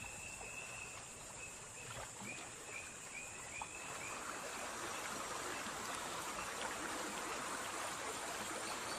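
River water flows steadily in a continuous, even rush, faint and close-sounding, with a brief high chirp of a bird near the start.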